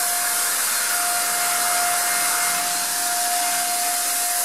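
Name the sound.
paint sprayer spraying projection screen paint onto a mirror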